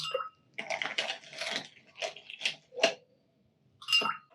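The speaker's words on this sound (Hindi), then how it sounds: "अब इसके अंदर हम बर्फ शामिल कर देंगे" Ice cubes dropped into a glass of homemade Rooh Afza sharbat, a run of separate close clinks and clatters over about four seconds with short pauses between, fairly quiet, no talking.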